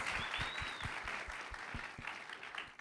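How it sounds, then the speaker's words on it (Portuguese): A small crowd applauds steadily, scattered claps overlapping at moderate volume, heard from a little distance. "eu queria uma salva de palmas para essa palestra super legal aí dos rapazes"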